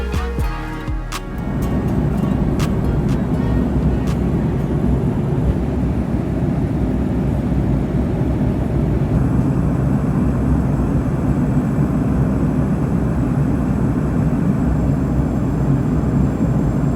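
Cabin of one of the oldest Boeing 737 airliners in flight near Caracas, a steady loud low engine and airflow roar after a brief quieter moment at the start.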